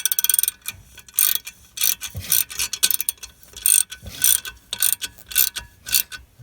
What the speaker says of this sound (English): you're going to want to tighten those bolts up